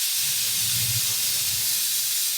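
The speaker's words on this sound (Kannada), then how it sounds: "ಈಗ ಗೀ ರೈಸ್ ರೆಡಿಯಾಗಿದೆ, ಒಂದು ವಿಷಲ್ ಬಂದಿದೆ" Pressure cooker whistle releasing steam while ghee rice cooks: a steady, loud broadband hiss fills the whole stretch, with a low rumbling undertone, and no voices.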